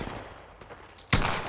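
Gunfire in the Apex Legends video game: after a second of low background noise, a sharp, loud burst of shots hits near the end and rings on.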